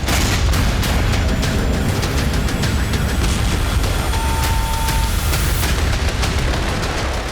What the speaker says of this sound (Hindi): एक के बाद एक धमाके देखे जाने लगे।